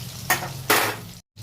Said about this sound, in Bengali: ডুমো ডুমো করে আলু কেটে নিয়ে তেল গরম হয়ে গেছে, দিয়ে দিয়েছি নুন হলুদ